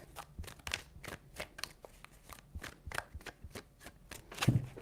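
Tarot cards are shuffled by hand in a quick series of crisp riffling snaps and soft slaps, close and fairly quiet, ending in one louder shuffle, with no speech.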